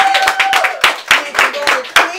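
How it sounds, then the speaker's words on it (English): A small crowd claps at a female rap battle, with sharp, uneven hand claps in a quick rhythm, close by, mixed with voices and shouting. "Clap it up."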